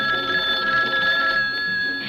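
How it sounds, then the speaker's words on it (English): A kitchen telephone bell rings loudly and close by in a steady, shimmering burst that lasts about two seconds, with no voices. "a kitchen phone at hand when friends call up to chat a bit"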